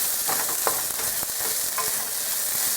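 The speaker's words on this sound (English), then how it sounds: "Now you want to hear that sizzle." Bell peppers sizzle steadily in hot vegetable oil in a pan while a utensil stirs them with a few scraping knocks, a loud, continuous fry up close with no talking.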